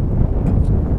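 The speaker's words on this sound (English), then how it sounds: "it's quite windy, so I don't know how it's going to go" Strong outdoor wind buffets the microphone in a steady low roar with no gusting breaks across the short stretch, and no voices are heard.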